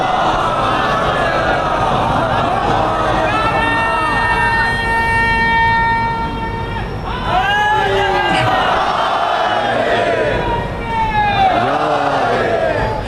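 An audience at a Shia majlis in Badi Karbala, Nawa, recites salawat in loud unison, with long rising and falling chanted phrases from many voices filling the hall.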